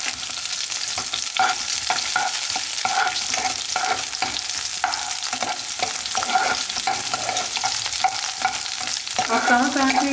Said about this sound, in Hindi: ऑयल जब गर्म हो जाए ना, उसमें हम अनियंस लेंगे